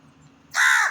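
A crow lets out a single loud, harsh caw close by after a brief stretch of near silence.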